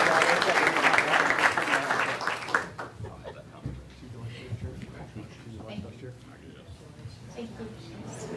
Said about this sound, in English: Make sure deserves another round of applause.